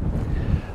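Strong wind buffets the microphone in a brief, rumbling gust, loud and low with no other sounds.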